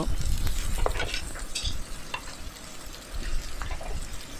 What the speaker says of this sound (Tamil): 2 பெரிய வெங்காயத்தையும் 2 பச்சை மிளகாவையும் சேர்த்து நல்லா வதக்கிடலாம்